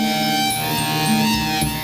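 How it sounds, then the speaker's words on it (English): Sonified tone of the element sodium at mass 23: a sustained, buzzing electronic drone with steady layered pitches and a faint high whine, alone and unbroken for about two seconds. "Well, sodium at 23 sounds like this."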